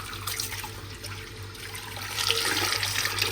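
Water runs into a fish tub as it fills, a steady rushing splash from a tap that grows louder and more turbulent toward the end, with no talk.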